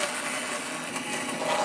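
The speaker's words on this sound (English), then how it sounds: "we'll just take our blender and just get in" A blender purees lentil and chicken soup in the pot, a steady whirring motor drone running continuously at moderate, close volume with no one talking.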